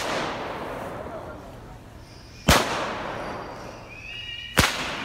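Two sharp firecracker bangs, a couple of seconds apart, crack out loudly over a wash of outdoor noise and chattering birds roosting in trees, set off to scare the birds away in Wiesbaden.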